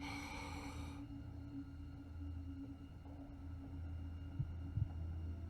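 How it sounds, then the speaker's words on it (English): A slow, muffled heartbeat throbs low and faint beneath a steady hum during a Xenoblade Chronicles 2 game scene, with a couple of soft thumps near the end and no voices. "Why do I hear a heartbeat in the background?"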